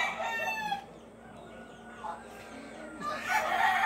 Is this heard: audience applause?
no